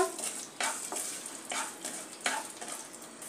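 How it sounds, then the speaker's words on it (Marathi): Edible gum (dink) frying in a pan until it puffs up, a steady crackling sizzle with about four louder scraping stir strokes across it, close and alone. "डिंक यामध्ये भाजून घेऊया, तळून घेऊया चांगला फुलेपर्यंत"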